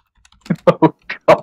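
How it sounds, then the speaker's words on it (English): Keys on a computer keyboard clatter in a few quick, uneven bursts of taps, close and fairly loud, with no voices over them. "I know what Genesis is typing."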